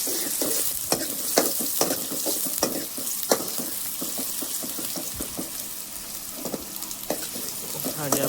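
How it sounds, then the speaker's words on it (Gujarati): Onions and green chilies sizzling in hot oil, a constant close crackle broken by repeated sharp stirring clicks and scrapes of a spoon against the pan, with faint voices now and then. "તો આપણે પહેલાં નાખી દઈએ ડુંગળી અને લીલા મરચાં."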